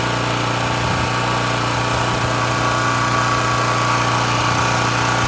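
A pressure washer runs loud and steady while spraying a garage's fascia board, its engine droning with a constant hum and dense hiss of water throughout, with no voices.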